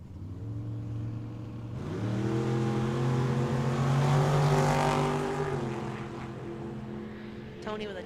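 A Camaro launches hard down the right lane at Tucson Dragway, its engine roaring up through the gears in a loud, rising blast that swells as the car passes and then fades, with a brief clatter near the end.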